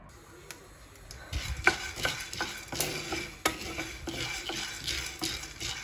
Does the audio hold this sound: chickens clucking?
no